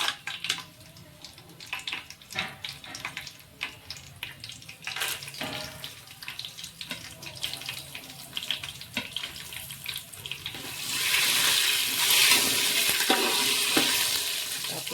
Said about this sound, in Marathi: गरम मसाला तळलेला आहे